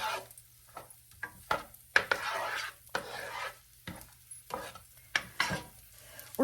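Onions sizzling in olive oil in a saucepan for butternut squash risotto, a steady frying hiss broken by repeated stirring scrapes and clicks of a utensil against the pan, close up with no talk.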